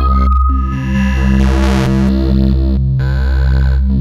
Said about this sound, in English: The Piston Honda can make beautiful lush tones to extremely harsh drones.